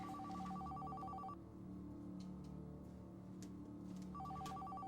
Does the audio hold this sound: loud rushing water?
no